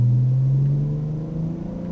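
A Ford Falcon engine idling after repair following years without fuel, a steady low hum with a faint wavering that eases slightly in level, close and without voices.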